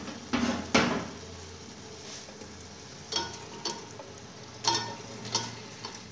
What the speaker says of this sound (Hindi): अब इसमें चिकन ऐड करते हैं।